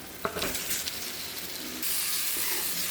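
Boiled eggs stirred into frying masala in a pan for egg thokku, with a steady close sizzle and hiss and a few faint scraping stirs, alone with no voices.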